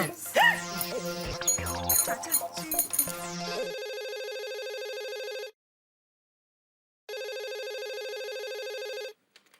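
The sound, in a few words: telephone ringing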